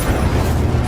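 Incendio fire spell cast in Hogwarts Legacy, a loud, dense whooshing roar of flame with a low booming rumble, sustained for about a second with no talk.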